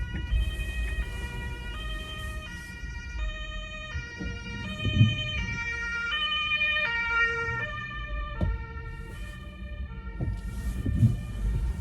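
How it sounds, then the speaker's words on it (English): An ambulance siren wails in a repeating two-tone pattern, fairly close and loud, over low road rumble and traffic noise. "Ambulance coming. We got to move out of the way."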